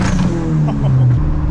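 Dodge SRT-4 turbo engine held on a two-step launch limiter, a loud, close, steady rumbling burble with crackling pops from the exhaust, sounding alone for a short burst.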